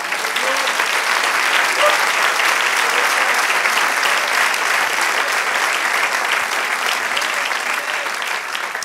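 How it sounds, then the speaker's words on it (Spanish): A church congregation gives loud, sustained applause during a sermon, a dense wash of many hands clapping throughout, with a slight fade near the end and no speech over it. "Dame un aplauso al Señor."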